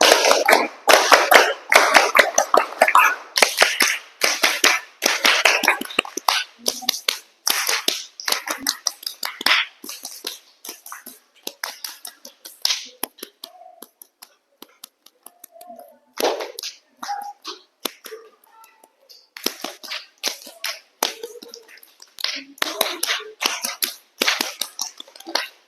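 A vocational high school class performs the Pancasila clapping chant as an icebreaker, with loud rhythmic group claps in quick patterned bursts and short pauses between sequences, close and sharp, with no talk over it.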